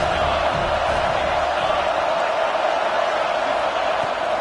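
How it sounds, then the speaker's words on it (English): A football stadium crowd at a Utes game roars and cheers in a steady, dense wash of noise, loud and unbroken throughout, with voices mixed into the din. "This crowd bringing the energy and noise early."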